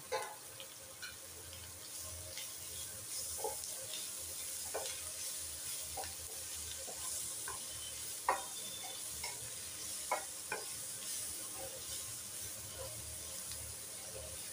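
Chopped green chillies and tomatoes fry in a pan, a faint steady sizzle with scattered scrapes and clicks from stirring, heard fairly close in a quiet kitchen.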